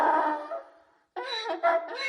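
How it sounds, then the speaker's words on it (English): A recorded donkey bray with a long harmonic call that fades out, then after a short pause a second run of loud, choppy braying phrases. "a donkey,"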